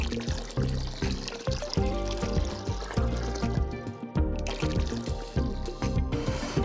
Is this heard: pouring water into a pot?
yes